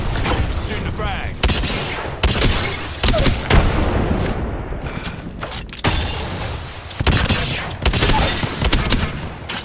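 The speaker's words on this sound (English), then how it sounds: "Shooting the frag." Frag grenade explosions in the battle royale shooter Apex Legends, loud repeated booms mixed with bursts of gunfire and game effects in a busy, continuous fight.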